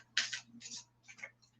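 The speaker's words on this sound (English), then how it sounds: "One more shuffle." Tarot cards shuffled by hand in a few quick bursts of papery riffling and slapping, close and fairly quiet, alone with a faint steady hum underneath.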